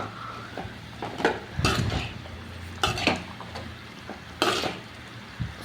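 Food being stirred in a frying pan, with a spatula scraping and knocking against the metal in a few separate strokes over a low, steady sizzle.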